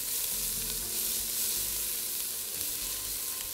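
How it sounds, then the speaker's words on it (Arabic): Chopped onion and garlic sizzle steadily in a hot oiled pot at the start of a shrimp machboos, a dense continuous frying hiss close up, with no talking over it. "بحط البصل والثوم هنا اهو"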